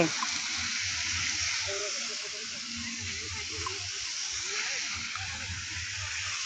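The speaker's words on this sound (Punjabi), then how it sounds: "ਪਾਣੀ ਜਿਹੜਾ ਇਹ ਥੋੜੇ ਥੋੜੇ ਚਿਰ ਬਾਅਦ ਸ਼ੁਰੂ ਹੋ ਜਾਂਦਾ" Water fountain at a roadside memorial at Chamkaur Sahib spraying in a steady soft hiss, a continuous rush of falling water with a voice talking faintly underneath.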